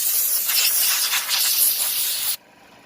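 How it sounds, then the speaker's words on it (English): Compressed air hose blasting off a freshly sandblasted part, a loud steady hiss lasting over two seconds and then cutting off abruptly, leaving near silence. "So we're just going to hit it with the air hose, kind of clean it off."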